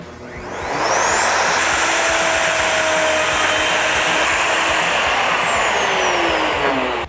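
A Wen plunge router spins up to max speed and holds a loud, steady, high-pitched motor whine with a rushing roar for about six seconds, close by and with no speech.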